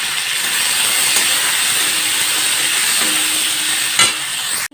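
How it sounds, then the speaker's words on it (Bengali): Vegetables with spices hiss and sizzle steadily in a hot kadai, a continuous bright frying noise with a few scraping stirs of a spatula and a sharp clatter near the end. "এখন সবজিগুলো কড়াইতে দিয়ে দিব।"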